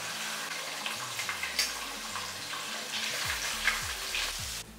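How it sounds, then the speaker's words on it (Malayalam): A batch of chicken pieces, part of a kilo being prepared for biryani, crackles and sizzles steadily in hot oil, a dense continuous frying hiss close by with faint pan knocks and no talking. "അടുത്ത സെക്ഷൻ വറക്കാനായിട്ട് ഇട്ടേക്കുന്നത്"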